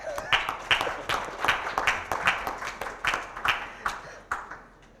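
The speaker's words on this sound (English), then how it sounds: "Applause" Scattered, rhythmic clapping from a small conference audience after a mock Sharkroom pitch, with distinct individual claps repeating at a steady pace, moderately close and fairly quiet.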